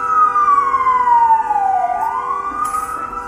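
Ambulance siren passing close by in traffic, a loud, steady descending wail that dips in pitch as it goes by and then rises again, heard alone without talk.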